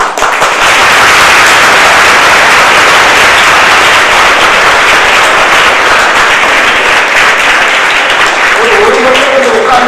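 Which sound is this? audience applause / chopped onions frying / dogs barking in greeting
audience applause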